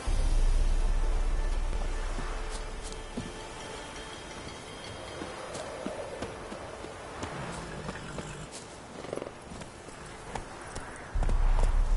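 Roach galloping in The Witcher 3: Wild Hunt Complete Edition on PS4, hooves clopping in a steady rhythm at moderate volume with a low rumble that swells at the start and end.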